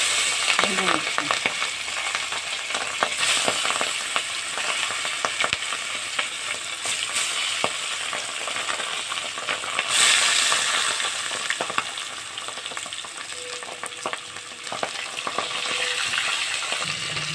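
Bacha fish, coated in turmeric and salt, frying in hot oil in a pan: a dense, continuous sizzle with scattered crackles and occasional utensil taps, steady and close, without speech.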